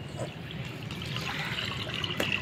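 Water is poured and trickles while a pigeon water container is being changed, a soft, close, continuous splashing flow at low volume with no talking.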